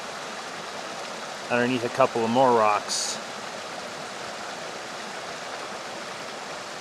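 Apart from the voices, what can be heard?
running mountain stream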